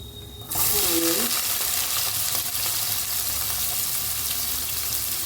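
Tempering seeds hit three spoons of hot oil and burst into a loud, steady crackling sizzle that continues without pause after a brief quiet start.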